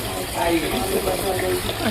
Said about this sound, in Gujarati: તો આવતો પાણી બે ચકલીઓ ચાલુ કરવાની.